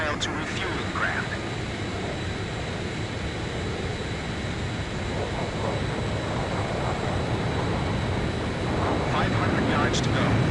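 Jet fighter engines in the Ace Combat 5 flight game roar as a steady, loud broadband drone throughout, swelling slightly toward the end, with radio-style voices talking over it.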